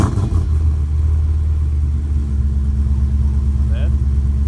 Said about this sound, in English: Taylor's gonna start it up real quick and see how it sounds